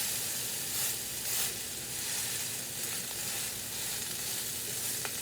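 Yak chop sizzling and frying in a cast iron pan, a steady close crackling hiss that holds evenly throughout with small pops and stirring sounds, no talking.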